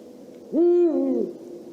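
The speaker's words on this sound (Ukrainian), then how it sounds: "що коли режисери хочуть подати наскільки темний та страшний ліс, то вони обов'язково повинні додати гукання сови." A single owl hoot, a clear tonal call rising then held and sliding down over about three-quarters of a second, fairly close and loud against a faint background hum, with no voices.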